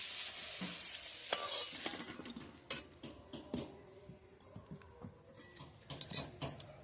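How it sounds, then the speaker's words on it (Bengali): Boiled young jackfruit is lightly fried in a pan, with a soft sizzle underneath repeated scraping and clinks of a utensil stirring against the metal. "এইভাবে সেদ্ধ এঁচোড়টাও ভেজে নেব হালকা করে।"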